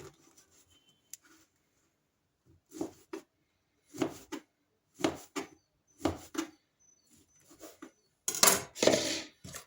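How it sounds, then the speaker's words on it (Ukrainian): A knife cutting slices of loaf bread into cubes on a board, a series of about six separate crisp chopping strokes at a steady pace, then a louder rustle of bread crumbs and pieces being gathered. "Потім ці пластини я розрізаю на кубики."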